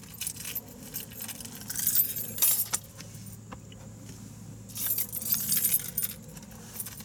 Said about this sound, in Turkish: Dur bakayım anahtar nerede?